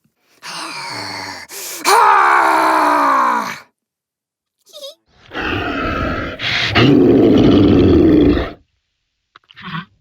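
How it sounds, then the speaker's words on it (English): Deep, guttural monster growls and roars from a voice run through the Dehumaniser 2 creature plugin, two long drawn-out bursts separated by a short pause, loud and close with a rasping, inhuman texture. "It's a vocal processing tool that specializes in creature sounds."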